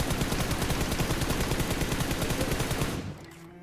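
Rapid automatic gunfire from a battle-royale style video game rattles in a dense, continuous burst for about three seconds, then cuts off abruptly into quieter in-game ambience.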